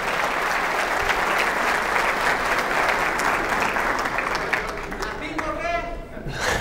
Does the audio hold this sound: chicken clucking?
no